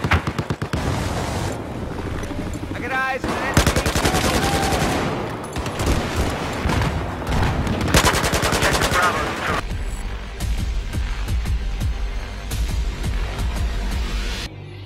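Gunfire from an AK-12 rifle in Battlefield 4: sustained loud automatic bursts and rapid volleys fill the whole stretch, with brief pauses, booming explosions and a rumbling, noisy battlefield backdrop.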